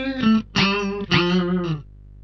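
A Zoom 9030 effects unit producing a fake slide guitar effect, three gliding, pitch-bending guitar notes with harmonic-rich tone, each sliding between pitches before a short decay.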